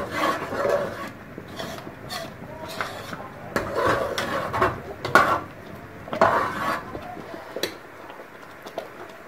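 A spoon scrapes and rubs against a pot while cornstarch pudding with cherry flavor is stirred quickly on the stove, making irregular rasping strokes, with occasional nearby speech and light clinks.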